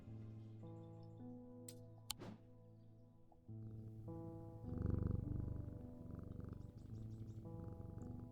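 A cat named Jupiter purrs softly in the video game Strange Antiquities, a low rumbling purr rising midway over quiet game music with light ticking.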